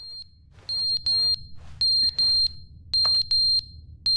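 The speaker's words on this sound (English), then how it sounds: "What is that, like a fire alarm?" Fire alarm in the video game The Stanley Parable Ultra Deluxe, loud and close, sounding in repeated shrill electronic beeping bursts with short gaps between them.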